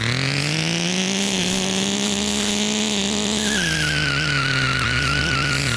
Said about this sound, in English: A little bit of wheel spin there.